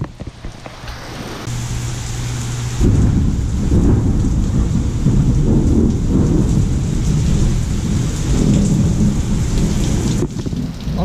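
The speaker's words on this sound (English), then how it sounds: "It's raining pretty hard." Heavy Gulf Coast rain pours steadily, heard from a garage, with deep rolling thunder rumbling through, loud and close, no voices.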